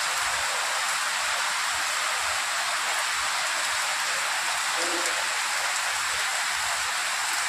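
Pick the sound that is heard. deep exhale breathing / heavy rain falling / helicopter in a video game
heavy rain falling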